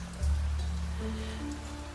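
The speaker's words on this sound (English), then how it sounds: "It's raining" Rain in the video game Niche, a continuous soft hiss of falling drops over a low droning hum with a few faint sustained tones, evenly loud throughout.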